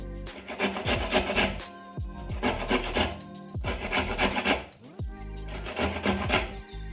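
Raw amla, Indian gooseberry, rubbed against a grater for homemade powder, giving loud rhythmic rasping strokes with brief pauses between passes, close up with no talk.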